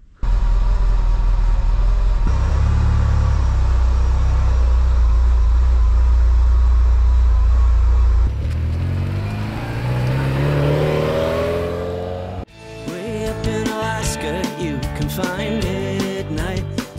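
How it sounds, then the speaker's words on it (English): A Ferrari 308 engine on a road trip, a loud, sustained roar that climbs in pitch as it revs and accelerates, then drops off and gives way to a rattling, clattering drive. "Another road trip in the Ferrari, second one."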